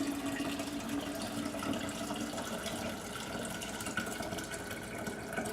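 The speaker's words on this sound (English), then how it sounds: "So now I'm gonna add in some filtered water that I have here." Filtered water pours into a kombucha jar in a steady, faint trickling splash that continues without a break.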